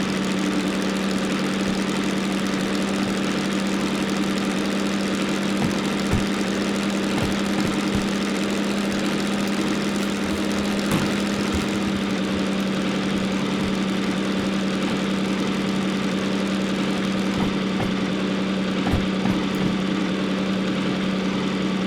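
A DM3 shunter locomotive in Derail Valley idles with a steady, loud diesel drone and faint knocking, continuous throughout with no voices.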